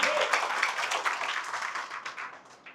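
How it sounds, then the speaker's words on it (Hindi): A corporate training audience applauds a participant with dense, steady clapping that fades slightly toward the end, sounding close and lively with no talk over it. "तालियां हो जाए इनके लिए"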